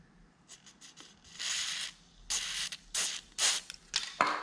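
Lubricant is sprayed onto motorcycle parts, including ball joints, in several short, close hissing bursts of varying length separated by brief pauses, with soft rubbing between them.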